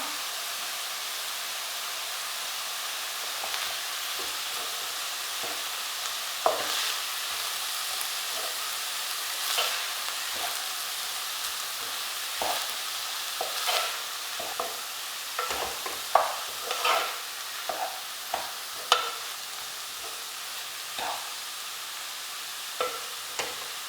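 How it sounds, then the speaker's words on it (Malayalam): Banana stem thoran with curry leaves stirred in a pan: a steady low sizzle runs throughout beneath irregular scraping and clinking strokes of a spoon, with no talking. "നമുക്ക് കറിവേപ്പിലയും കൂടെ ചേർത്ത് നന്നായിട്ട് ഇളക്കാം."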